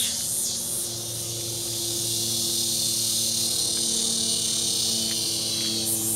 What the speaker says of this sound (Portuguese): Minha cigarra cantando, chamando calor.